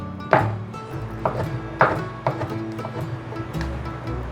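Knife chopping king oyster mushrooms into small dice on a cutting board, a few sharp separate chops spaced irregularly, moderately close, with a low background hum and no talking.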